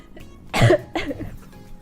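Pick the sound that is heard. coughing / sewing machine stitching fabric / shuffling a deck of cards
coughing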